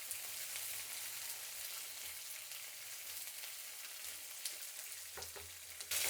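Onions and dried red chillies fry in a hot pan, giving a steady, close crackling sizzle with a few sharper pops and spatters near the end; no voices.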